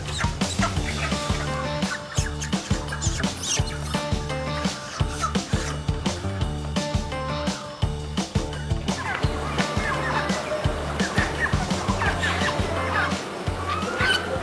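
Many chickens, 15 to 20 packed in an iron basket, cluck and squawk continuously at close range, with rattling and shuffling as the birds move about.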